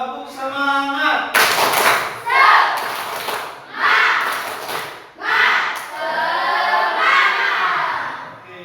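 Students in a classroom do a rhythmic clap-and-chant cheer, loud group clapping in short patterned bursts mixed with chanted voices, with a teacher's voice calling the start.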